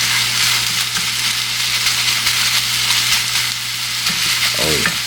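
Thick, juicy Tennessee Pride hot country pan sausage frying in a pan, a loud, constant crackling sizzle with a steady hum underneath and a brief scrape near the end.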